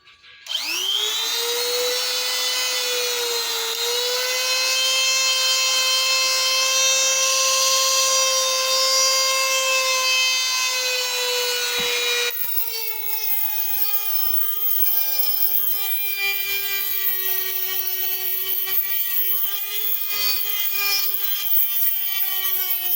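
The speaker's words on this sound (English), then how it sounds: "I'm going to the die grinder. I got a small round little flap disc on here" A die grinder fitted with a small round flap disc works the back of a vintage hammer. The high, whining grind holds steady and close for about twelve seconds, then shifts to a slightly lower, rougher pitch and continues.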